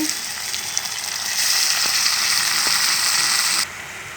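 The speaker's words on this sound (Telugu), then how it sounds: "ఆనియన్స్ మగ్గాక టమాటా ముక్కలు వేసుకోవాలండి" Tomato pieces drop into onions frying in a pan, setting off a steady broadband sizzle that swells louder partway through and then eases, with a few faint clinks; no one speaks.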